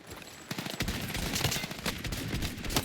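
Rapid gunfire from a pump shotgun in a video game, a dense run of sharp cracks and bursts packed closely together over a few seconds, fairly faint in the mix, with no talk.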